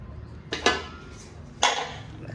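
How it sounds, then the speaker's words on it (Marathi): A metal griddle (tawa) and a flour tin set down in a home kitchen: two sharp metallic clanks about a second apart, close and fairly loud, with quieter rattling in between. "हे बघा तवा टाकलाय मी पिठाचा डबा टोपलं"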